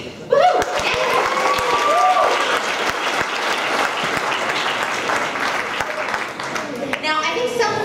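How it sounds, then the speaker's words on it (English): An audience bursts into loud, sustained applause that continues evenly for several seconds, with scattered cheers and voices mixed into the clapping. "you should give yourselves a little round of applause"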